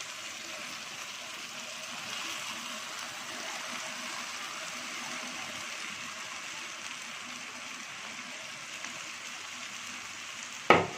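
Boiled, shredded chicken fries in a tomato masala with a steady, close sizzling hiss that holds evenly throughout, ending in a brief knock.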